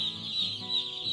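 Day-old broiler chicks in a brooding house peep and cluck continuously, a dense high-pitched chorus of many birds close by with no talking.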